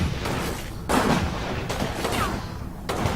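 Gunfire in the WWII tactics game Combat Mission Final Blitzkrieg: a steady wash of distant shots and rumbling fire, with sharper bursts punching through around the one-second mark and again near the end, with no talking.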